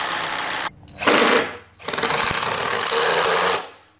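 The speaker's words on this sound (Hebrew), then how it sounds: "אוקיי, אז הברגתי" A power drill drives long screws into the boards of a simple wooden garden bench, two loud whirring bursts of motor noise close by, separated by a brief pause, with no talking.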